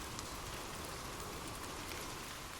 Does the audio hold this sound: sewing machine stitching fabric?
no